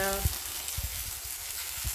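Onions slow-frying in a non-stick pan for a Punjabi rajma, a steady close sizzle throughout with a few soft thumps and stirring knocks, no talk.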